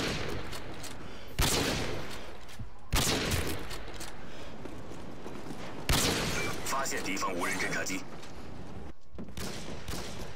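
Gunfire in the online shooter Call of Duty Online, with a few sharp shot bursts standing out over constant game noise and someone talking throughout.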